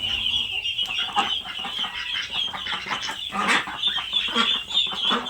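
Ducks calling and chattering continuously, several birds close by with overlapping cackles and quacks over a busy outdoor background.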